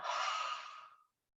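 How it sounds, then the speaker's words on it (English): A single deep exhale during a somatic movement exercise, heard as one close, breathy sigh that fades out over about a second. "We're going to take a nice deep breath in, and as you do, bringing your arms above your head"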